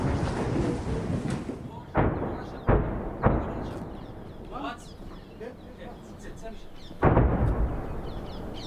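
Artillery booms on the Israel-Lebanon border: several sharp, loud blasts, two close together near the start and a heavy one later, rising over steady outdoor background noise with talk and occasional bird calls.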